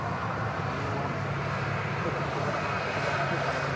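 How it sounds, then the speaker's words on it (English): Airbus A330 airliner during pushback at Manchester Airport on a wet apron, with a steady, continuous jet-engine roar and broadband rumble heard from a distance throughout, no speech audible. "catching the pushback of the Airbus A330"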